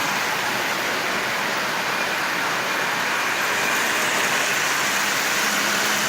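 A heavy Lionel 2036 model locomotive with magnet traction runs along metal track at half power, giving a constant loud hissing rumble that swells slightly toward the end, with no voices.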